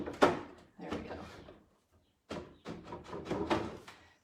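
Wooden drawer sliding in and out with wood rubbing on wood, several scraping strokes in bursts with short pauses, fairly close and moderately loud.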